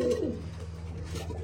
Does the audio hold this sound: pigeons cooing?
yes